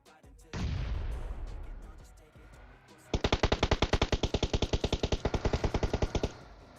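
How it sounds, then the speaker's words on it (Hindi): A burst of distant gunfire in PUBG Mobile gives way to a rapid, loud stream of automatic shots firing in a steady rhythm for several seconds. "हर एक बंदा गोलियां पेल रहा है"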